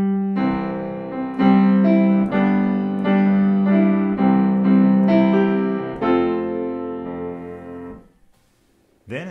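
Piano plays a melody harmonized with full chords in the right hand, rich stacked notes moving together in a series of sustained phrases before fading out.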